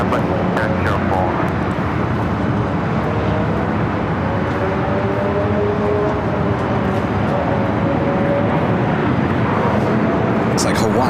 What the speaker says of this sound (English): Looks like Hawaiian Flight 10, the A330 coming in from Honolulu, taking the route to the south.